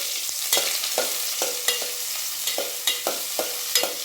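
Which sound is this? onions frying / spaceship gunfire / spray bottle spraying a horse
onions frying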